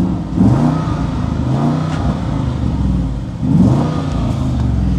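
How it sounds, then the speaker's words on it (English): A hail-damaged 2021 Audi RS Q8 engine revs twice from idle, a deep throaty climb and fall each time, loud and close, with steady idle rumble between. "I'm not out here revving these things to red line or anything"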